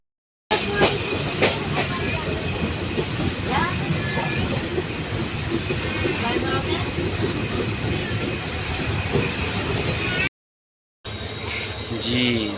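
Hazara Express 12 Down rolls along the rails in Pakistan at night, a steady close rumble of wheels with faint clatter and squeal and a brief break near the end.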